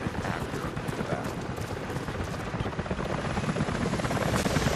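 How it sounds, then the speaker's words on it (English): Helicopters approach in the Rise of the Tomb Raider video game, a steady dense rotor roar that grows slightly louder over the few seconds, with busy battle noise mixed in. "helicopters are headed your way."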